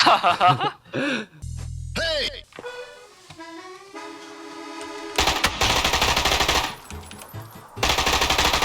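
Automatic gunfire in the PUBG battle royale video game: loud sustained bursts of rapid shots come in two long volleys near the end, with players talking and laughing just before them.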